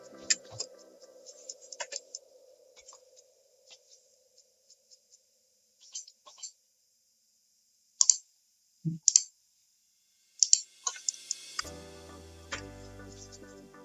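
Sparse computer mouse clicks while RSI indicator settings are adjusted, single and double clicks spaced irregularly over near silence, with a brief tonal chime and low electronic sound near the end.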